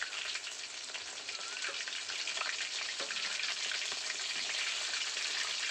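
Chicken kabab pieces fry in hot oil with a steady, dense sizzle and small crackling pops running the whole time, fairly close and even in level, with no talking.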